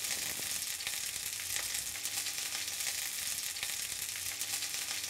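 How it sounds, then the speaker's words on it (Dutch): Asparagus sizzles in olive oil in a pan, a continuous bright crackle with small pops, close and steady with no talking. "Zal ik de asperges bakken? Olijfolie, zout, peper."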